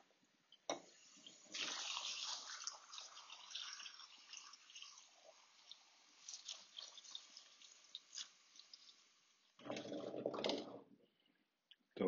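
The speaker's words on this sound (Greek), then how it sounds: "Πάμε να τις βάλουμε το νεράκι." Water pours from a tap onto home-cured olives in a container, changing their debittering water. The splashing runs steadily for several seconds, then comes a short, fuller gush near the end, with no talking.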